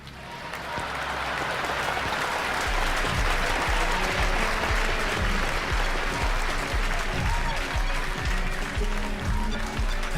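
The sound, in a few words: applause from concert audience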